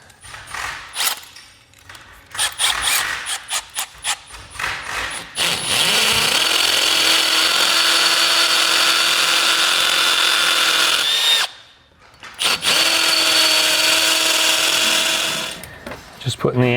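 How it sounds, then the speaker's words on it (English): A power drill runs in long, steady bursts close by, boring holes for 3/8 sleeve anchors during a wall-mount Vyper fan install, with brief pauses and softer handling noise around the drilling. "Just putting the anchors in now."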